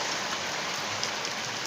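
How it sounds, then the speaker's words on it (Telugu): Heavy rain pours onto a home garden with flowering plants, a dense, steady hiss of drops with no break and no talk. "అమ్మో, ఫుల్గా వర్షం అయితే మామూలుగా లేదు, ఇలా వస్తుందన్నమాట"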